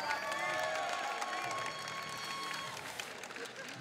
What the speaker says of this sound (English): another round of applause for your first finalists